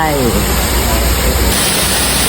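A loud waterfall at a cafe in Chiang Rai roars as a dense, steady wash of falling water that fills the short moment close by.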